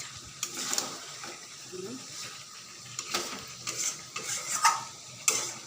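Meat being stir-fried and browned in a pan for a mutton dish, with a steady low sizzle and irregular scraping, stirring clatters against the pan, with faint background voices.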